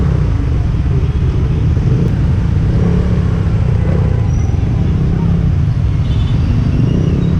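Busy Sunday traffic near Urdaneta public market, with cars and tricycles rumbling steadily and close by, engines droning without a break and voices faintly mixed into the din.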